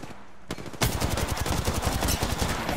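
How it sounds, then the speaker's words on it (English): Rapid automatic gunfire in the battle royale game Apex Legends, loud and close, firing a sustained burst of evenly spaced shots after a single shot and a short pause. "And they're shooting at me."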